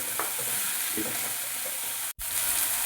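Onions fried to a deep red, then chopped tomato, sizzle in hot oil for a fish head curry masala. A steady, loud hiss runs throughout, with a few soft stirring scrapes and a brief silent cut near the end; nobody speaks.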